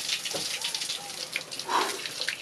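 Shower water runs steadily in a bathroom in Peru, a broad hiss with scattered spatters and drips throughout, close by and fairly quiet.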